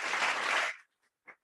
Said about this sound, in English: I request a big round of applause for Mr. Matthew.